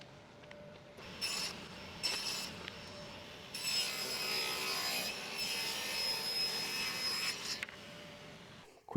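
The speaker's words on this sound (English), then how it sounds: "Quick run through the table saw." A table saw runs through pallet wood in a workshop, with whining motor tones and several rough cutting bursts, the longest in the middle, fairly close.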